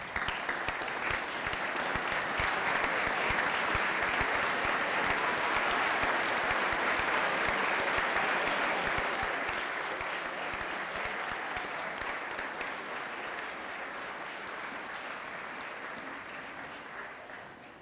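A large school graduation audience gives a standing ovation, sustained dense clapping filling the space for the whole stretch, loud at first and easing slightly toward the end with a faint crowd murmur underneath.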